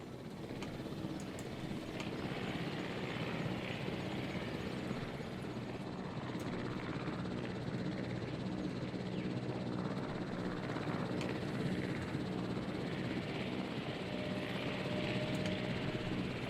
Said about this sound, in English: I do not know if those helicopters are scaled properly.